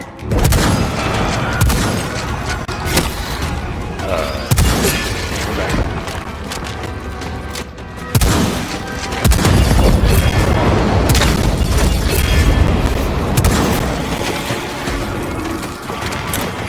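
Heavy booming blasts from a grenade going off in the shooter game Second Extinction, a loud dense burst with rumbling debris and gunfire crackle, repeated impacts around the 4, 8 and 9 second marks amid constant combat noise.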